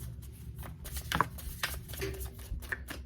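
Tarot cards are shuffled with a quiet, uneven rustling and soft flicking, a light patter of card edges.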